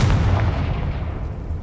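The Confringo spell is cast in Hogwarts Legacy and bursts as a deep, booming fire blast. A low rumbling roar fills the short span and fades slightly toward the end, with no talk over it.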